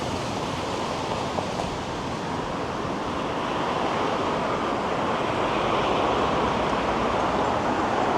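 Strong wind gusting down Avenue Road toward Yorkville in Toronto, a loud continuous roar buffeting the microphone with a steady rushing texture and no breaks, no voices.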